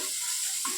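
Dried fish dropping into a hot pan of well-cooked spice paste, giving a steady sizzle with a brief louder hiss as the fish lands.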